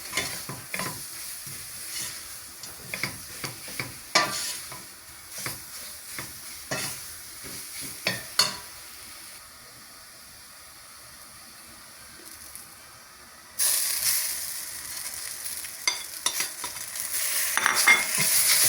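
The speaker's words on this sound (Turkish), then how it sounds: "Şimdi havucunu sırasıyla kavuracağım." Carrots are sautéed in a pot for a vegetable soup, with a steady sizzle under repeated scraping stirs of a spoon, then a louder hiss of frying near the end.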